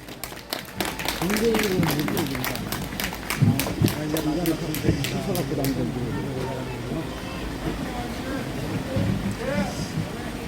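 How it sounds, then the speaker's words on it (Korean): Applause from a crowd at a political rally outside a party headquarters rises after an announcement, a steady wash of many hands with clear individual claps near the start, while a voice over a loudspeaker talks through and after it. "박수로 맞아주시기 바랍니다"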